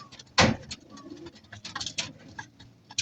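Racing pigeons coo nearby in soft, low, repeated calls, with a sharper rustle or wing flutter near the start and scattered small chirps in between.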